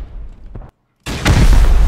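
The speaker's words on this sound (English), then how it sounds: "Rocket launcher time" A rocket launcher fires in the survival game Rust, a loud boom cut by a brief silence and then a heavy, sustained blast with rumbling low end, close and without talk.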